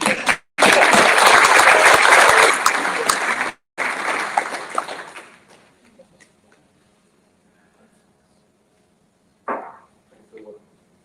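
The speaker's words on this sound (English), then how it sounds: "give a massive kudos and a round of applause" A loud burst of applause from a crowd fills the first few seconds, then fades into scattered claps and quiet, with a brief voice near the end.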